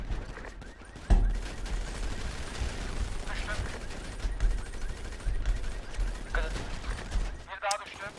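Gunfire in the GTA 5 video game, with shots crackling steadily through the whole stretch and a sharp loud burst early on, mixed under excited talking from players.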